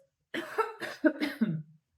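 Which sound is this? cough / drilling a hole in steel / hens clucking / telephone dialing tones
cough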